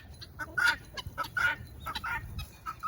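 Guinea fowl on a farm calling in a rapid run of harsh, squawking chattering notes, fairly close and moderately loud, with a faint low rumble beneath.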